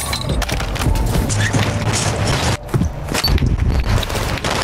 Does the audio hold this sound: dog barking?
no